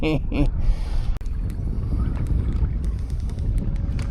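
Wind rushes across an open inshore fishing boat, a steady low rumble buffeting the microphone throughout, with a brief voice near the start.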